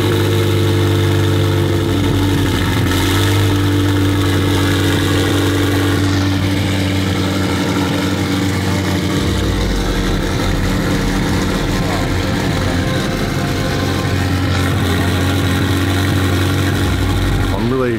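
A 1500-horsepower McLaren 720 GTR engine idles loud and close, a deep, steady burbling drone that holds for many seconds with slight shifts in pitch.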